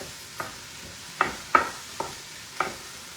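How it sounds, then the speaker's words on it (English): Beef stroganoff with mushrooms stirred in a pan: five sharp utensil scrapes and clinks spaced irregularly over a faint background sizzle, close and fairly quiet. "Give this a stir."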